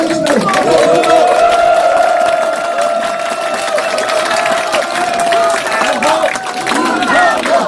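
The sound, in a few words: audience applause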